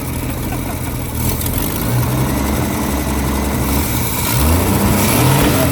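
A Ford Mustang engine idles steadily up close, a loud continuous rumble with slight swells in pitch, and a voice speaks briefly over it.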